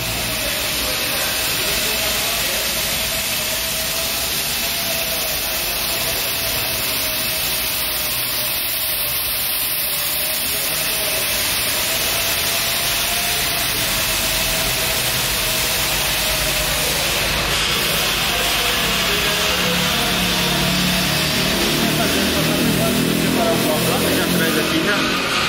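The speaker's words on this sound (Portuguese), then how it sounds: "ver nosso motor usinando" An Audi S3 engine is machined in a machine shop, giving a steady, continuous mechanical whir and hiss with a constant tone that runs unbroken and fairly loud, with faint voices now and then.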